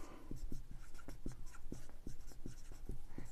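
Pen or pencil scratching out numbers by hand on paper during a Class 7 percentage math lesson, a close, quick series of short strokes in an irregular rhythm, with no voices.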